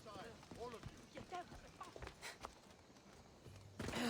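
A horse's hooves clip-clop in Assassin's Creed Odyssey, a faint irregular patter of steps under a voice that talks throughout.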